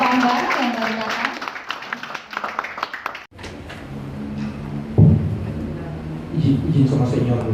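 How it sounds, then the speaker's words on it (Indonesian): An audience at a forum on the media's role in the 2024 political year applauds a newly arrived guest; a speaker's voice comes first, then an abrupt cut into a denser clapping wash with voices under it. "Boleh tepuk tangan sekali lagi untuk Bapak Bambang yang baru datang."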